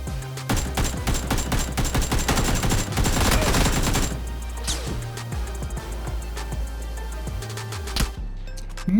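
Rapid bursts of gunfire from the PC shooter PUBG, loud and dense with overlapping shots and crashes for the first four seconds, then sparser single shots and short volleys until the end.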